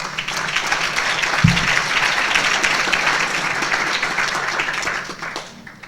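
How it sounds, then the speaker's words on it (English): Sustained applause from a breakfast gathering of Rotary volunteers and parents, a dense even wash of clapping lasting several seconds before tapering off at the end. "So give yourself a round of applause."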